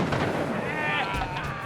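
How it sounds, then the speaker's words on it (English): A cannon loaded with a 1.5 pound black powder charge and an ice cannonball fires in a booming blast that rolls on, with excited voices talking over the aftermath. "Old Moses supplies the biggest boom he can handle"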